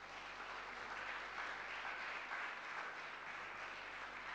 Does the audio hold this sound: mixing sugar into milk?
no